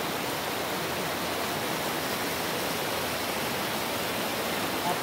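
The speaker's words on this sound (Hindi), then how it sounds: "आपके पानी का आवाज़ भी जा रहा है" A river waterfall at Rajrappa pours in a constant, even broadband rush, moderately loud and unchanging, with no voices.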